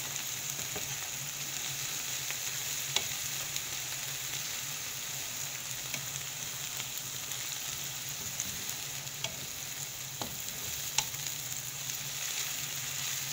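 Biryani ingredients fry steadily in a pan, a continuous close sizzle with occasional scrape and clink of stirring, no voices.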